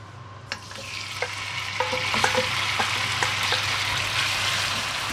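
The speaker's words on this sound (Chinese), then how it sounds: "煎咗啲排骨先，" Pork ribs fry in a hot pan with a steady sizzle, joined by scraping and stirring clatters of a utensil against the metal, close up and without talk.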